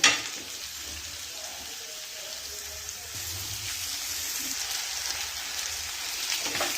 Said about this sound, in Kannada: ಇದನ್ನು ಹಾಕಿ ಮೊದಲು ಚೆನ್ನಾಗಿ ಹುರಿಯೋಣ.